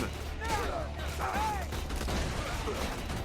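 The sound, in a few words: machine gun fire in video game Borderlands 2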